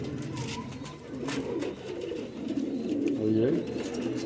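Rampuri pigeons coo nearby in soft, repeated low warbling calls that rise and fall, with a voice faintly audible in the background.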